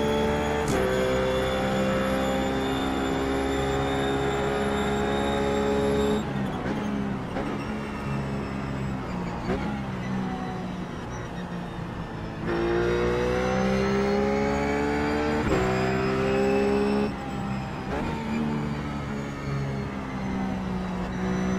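A Ruf GT3 race car in iRacing laps Suzuka, its engine revving through rising and falling gear changes with sharp shifts, loud and continuous.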